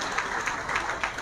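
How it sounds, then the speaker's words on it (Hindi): Audience at a Brahmin conference in Kannauj clapping, a dense continuous patter of many hands at moderate distance, steady throughout without talk. "जोरदार तालियां बजाएं।"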